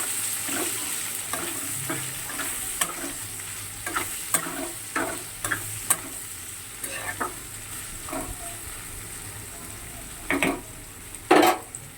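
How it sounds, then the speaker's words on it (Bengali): Onions fry in plenty of hot oil in a wok, a close, constant sizzle broken by repeated sharp scrapes and taps of a spatula against the metal, with no talking. "পেঁয়াজটা একটু লাল লাল করে ভাজা হবে।"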